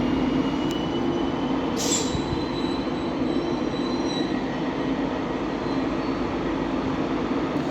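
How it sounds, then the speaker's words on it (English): A Class 91 electric locomotive on an LNER service for London King's Cross departs Doncaster station on the East Coast Main Line, its steady loud rumble sustained throughout with faint wheel squeal, no talking. "82 212 and 91 106 for 105 you Burke, with an LNER service to London King's Cross"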